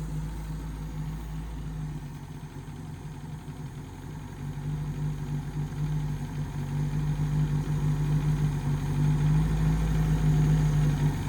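A 23-year-old abandoned Mercury Capri turbo runs steadily in gear while its clutch is slowly let out, giving a low, even engine drone that swells slightly louder partway through, with no talking over it.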